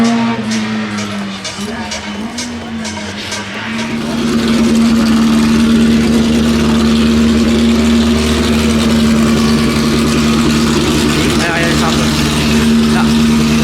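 A 500-horsepower V8 sport car engine idles, then rises into a loud, steady roar that holds to the end, with a voice talking over it, at a motor festival.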